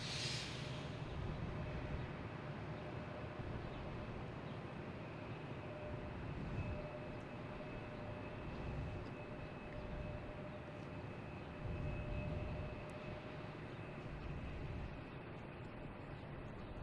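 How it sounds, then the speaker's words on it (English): An American Airlines airliner takes off at Boston Logan Airport, heard as a faint, distant, continuous jet rumble and roar with no talk. "taking off, we have American Airlines heading to Charlotte"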